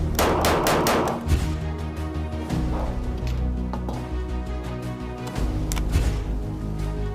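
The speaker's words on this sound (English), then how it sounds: "first I'm gonna shoot the store-bought vest to see how it holds up against a barrage of bullets" A submachine gun fires rapid bursts at a store-bought bulletproof vest, loud close cracks in quick runs separated by brief pauses.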